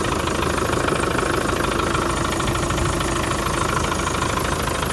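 A 1994 Land Rover Defender 90 with a 300Tdi diesel engine idling inside an enclosed building, a loud, steady clattering rumble with an even rhythmic knock and no talk over it.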